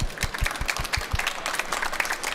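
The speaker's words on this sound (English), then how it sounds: "Round of applause." An audience at a drinktec trade fair forum claps in a moderate, steady round of applause, lasting about two seconds with no speech over it.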